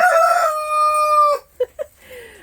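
A chicken crows in a chicken run, with one loud, close, drawn-out crow followed by a couple of short clucks.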